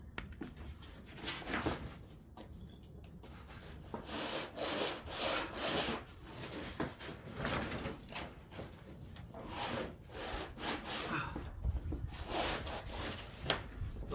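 Repeated sawing strokes of a tool cutting around armoured cable while bricking up a carport, a steady rasping rhythm at close range that runs throughout with brief pauses, and no talk.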